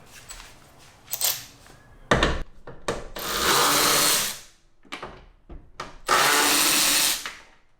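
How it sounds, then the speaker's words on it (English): An electric ratchet with a socket backing out 10 mm bolts on a car tail light, two sustained whirring runs of about a second each, set apart by sharp clicks and clanks of handling. "I'm just gonna use an electric ratchet and a socket for it"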